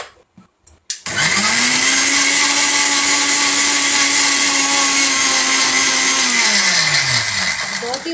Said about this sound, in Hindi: मैं इसे ग्राइंड कर रही हूँ।